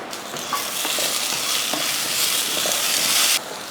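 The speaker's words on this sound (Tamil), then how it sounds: "சின்ன வெங்காயம் ஒரு கையளவுக்கு இதை நல்லா வதக்கிடுவோம்" Small onions and spices sauté in a pan, a loud continuous sizzle with brief stirring scrapes, close and alone, cutting off just before the end.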